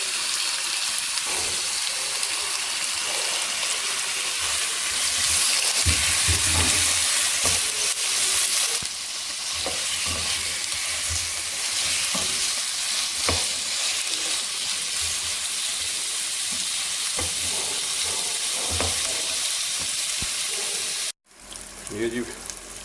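Chicken and garlic fry in a karahi for a Pakistani white chicken karahi, a loud continuous sizzle and crackle with occasional stirring scrapes throughout, ending in a brief break.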